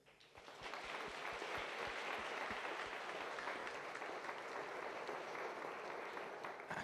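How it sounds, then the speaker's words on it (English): Conference audience at Agile Tour Vilnius 2015 in hall 5.1 gives big applause for the volunteers, dense clapping swelling within the first half second and holding steady and fairly distant throughout. "I would like to ask you to do a big applause for all volunteers that made this happen"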